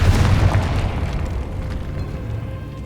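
A Confringo spell explosion in the Hogwarts Legacy video game, a loud booming burst at the start that rumbles and fades away over a few seconds, no talking.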